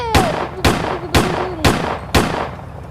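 Five evenly spaced heavy gun blasts from a tank in the Roblox game Brookhaven, each a sharp loud crack with a short decay, fired about every half second over faint game music.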